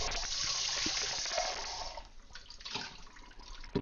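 Running water pours and splashes steadily, loud and close, then thins into a softer trickle with a few splashy bursts near the end.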